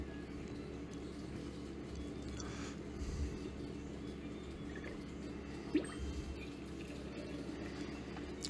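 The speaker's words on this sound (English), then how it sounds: "Pouring some ale for the customers" Vanya Ale pours from a barrel in Seven Deadly Sins Grand Cross, a faint dripping, filling liquid sound under a steady low game backdrop, with one soft splash and no talking.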